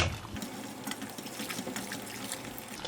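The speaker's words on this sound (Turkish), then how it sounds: "Yaklaşık bir 1 litre kadar su ekliyorum." Hot water poured steadily into tomato soup made from oven-roasted tomatoes, a continuous close splashing and trickling stream with no talk.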